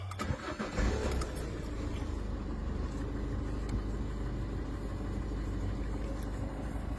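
A car engine cranks and catches after a diagnostic repair that cleared a particulate filter warning light, then settles into a steady close idle.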